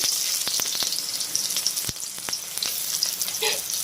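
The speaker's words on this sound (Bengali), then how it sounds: "তেল গরম হয়ে গেছে, এবার দিয়ে দেবো পেঁয়াজ কুচি" Chopped onion sizzles steadily in hot mustard oil, a bright crackling hiss punctuated by sharp pops and a few stirring clicks.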